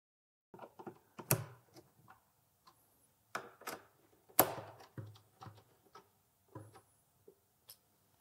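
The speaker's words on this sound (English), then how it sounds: "by inserting and then tightening the screw right here, I fasten the fitting" Screw being driven in by hand to fasten a cabinet flap lift fitting inside a cabinet side, giving a string of small clicking ticks and creaks in short bursts, fairly close and quiet, with no talking.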